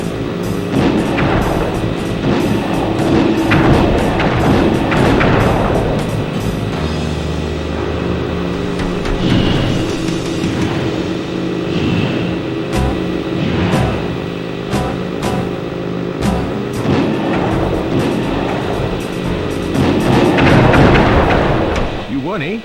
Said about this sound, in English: After you collect the fallen ammo, press the square button to fire its turret.